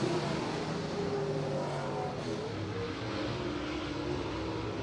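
Late model race cars running a heat at Merritt Speedway; a steady, fairly distant roar of engines holding constant without clear passes, no voices.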